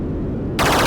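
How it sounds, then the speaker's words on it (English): Smart bombs detonate in the Stargate arcade game, a sudden loud burst of harsh noise cutting in over a low rumbling background near the end of a very short moment. "Doing some smart bombs here."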